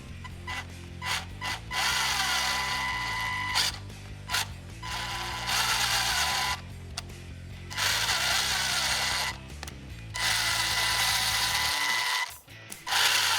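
A power drill drives screws into a hard Vespa scooter tire to fit it for ice riding, with repeated whining bursts of motor that rise and hold, separated by brief pauses, heard up close and alone.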